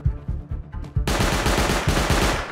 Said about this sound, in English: Oh, that's an auto turret. I got shot.